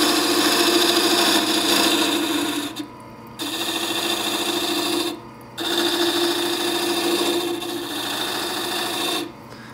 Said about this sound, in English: I'm gonna revert to sandpaper.